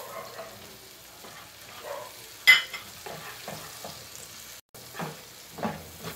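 Onions dropped into butter in a pan for pork sisig give a faint sizzle, with intermittent scraping stirs and clatter. A dog barks softly now and then in the background.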